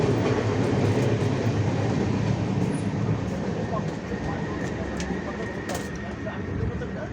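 A continuous low rumble of a train rolling along the tracks, heard from inside an AC compartment, steady and fairly loud, with faint talk underneath.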